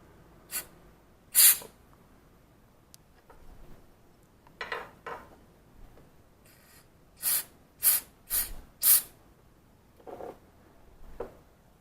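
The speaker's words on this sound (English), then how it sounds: "we're going to use a little bit of some white lithium grease. And I'm just going to take a couple squirts" A spray can of white lithium grease gives a series of short, sharp hissing squirts, close and loud, spaced irregularly with a cluster of several quick bursts near the end.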